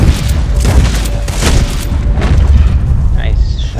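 Gunshots from a volcanic pistol in the Red Dead Online video game, several loud booming reports in quick succession over a rumbling game background, with a voice talking through them.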